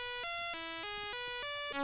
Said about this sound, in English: it's my new ringtone.